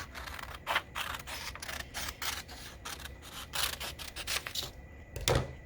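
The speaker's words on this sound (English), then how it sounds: "so I'm going to cut off this extra" Scissors snip through extra folded paper for a paper dragon craft, a quiet run of short crisp cuts and rustles close by, with no talking.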